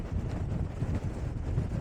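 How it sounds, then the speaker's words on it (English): Strong wind buffets a hilltop above Brixham on a winter morning, a steady low rumble of gusts roaring against the microphone with no voices. "it's still very, very windy up here"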